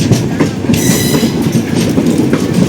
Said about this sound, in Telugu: మన పక్క నుంచి ఒక ఫేమస్ ట్రైన్ అయితే వెళ్తుంది, తిరుపతి MGR చెన్నై సెంట్రల్.